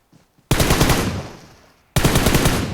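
Gunfire in PUBG Mobile, two loud bursts of rapid automatic shots close by, the first lasting well over a second and the second starting shortly after it.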